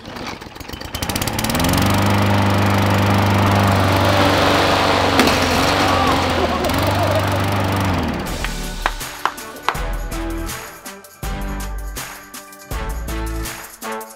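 A lawn mower engine runs steadily and loudly for several seconds in oobleck, then sputters and cuts out, followed by scattered clanks and knocks.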